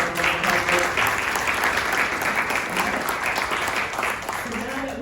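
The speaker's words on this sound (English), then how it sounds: "So now that we know we can all clap and keep that going" An audience at a senator's Earth Month recognition event claps steadily in sustained applause for about five seconds, dense and fairly loud with no pauses.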